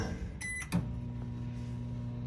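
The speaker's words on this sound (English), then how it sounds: "You have your microwave up top here, just the push button to open it." Push-button microwave door in a 2022 Jayco Jay Flight 174BH travel trailer popping open: a single sharp click and clunk near the mic, followed by a steady low hum.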